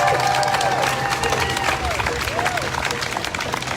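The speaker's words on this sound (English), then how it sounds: "Give them a round of applause." A crowd at a live grassroots activist gathering breaks into sustained applause and cheering, loud and steady across the whole stretch, with scattered whistles and voices rising above the clapping.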